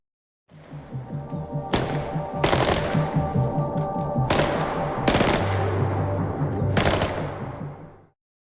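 A PPS-43 submachine gun fires in a movie scene, several short automatic bursts spaced a second or so apart, loud and close over a low steady background hum.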